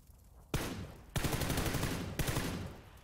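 Gunfire in the video game PUBG, three loud sharp bursts of rapid automatic shots, each decaying into a trailing rattle, with no talk over them.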